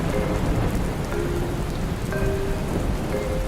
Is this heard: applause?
no